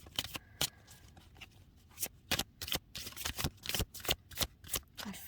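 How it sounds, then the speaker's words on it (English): Tarot cards are dropped, then gathered and shuffled by hand: a quick run of crisp papery slaps and riffles, close and fairly loud, with no talk. "Just like dropping all the cards."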